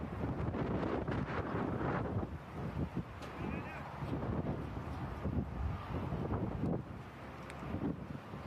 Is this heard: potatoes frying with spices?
no